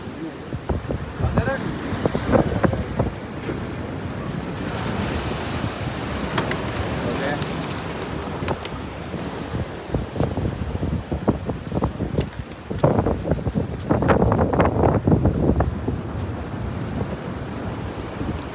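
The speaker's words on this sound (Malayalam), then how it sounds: "നല്ല തിരമാല ഉണ്ട്" Sea waves surge and break repeatedly in loud, rough bursts at Poonthura beach, with gusts of wind buffeting the microphone throughout.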